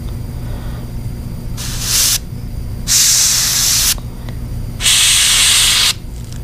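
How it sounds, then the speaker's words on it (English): An airbrush sprays paint over a custom Mayan cichlid bait in three loud, steady hissing bursts of a second or so each, separated by short pauses, close up with no talking. "you're burying the mark with your airbrush and your paint"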